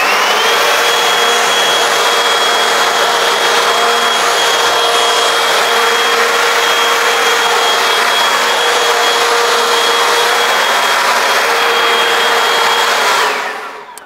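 A Ryobi 18V cordless leaf blower runs on normal mode, giving a loud, steady whine and rushing airflow that holds constant for about thirteen seconds, then cuts off abruptly at the end.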